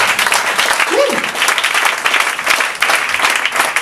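A church congregation bursts into loud, sustained applause that fills the whole stretch, dense clapping from a large crowd with a brief voice rising over it.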